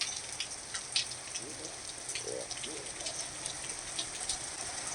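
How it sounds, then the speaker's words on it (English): Summer rain pours down steadily, a dense, continuous patter and hiss close by, with faint murmurs underneath. "And we really need this rain in the summertime."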